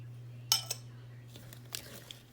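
A few light clinks of a utensil against a bowl while two beaten eggs are mixed for strawberry cream cheese bread, brief and fairly faint over a steady low hum.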